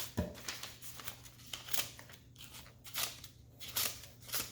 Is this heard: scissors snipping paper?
yes